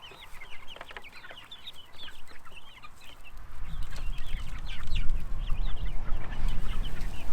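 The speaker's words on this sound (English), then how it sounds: "Birds." Chickens cluck and chatter steadily in a farmyard, with many overlapping calls, while a low rumbling background grows louder partway through.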